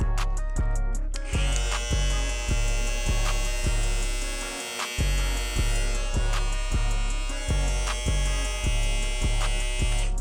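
A SuprentPro electric foil shaver buzzes steadily up close, a bright motor whine with a rhythmic pulsing throb, briefly dipping midway before resuming.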